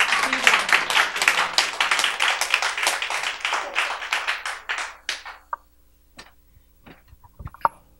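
A seated audience applauds to welcome a speaker, with close, crisp clapping for about five seconds that tapers off into a few scattered claps and small taps in a quiet room.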